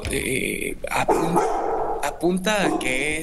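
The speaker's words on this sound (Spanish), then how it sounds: "ese es mi perro ladrando en un momento muy desafortunado" A pet dog barks and growls in short bursts close by, breaking in over someone speaking Spanish on a morning radio-style show.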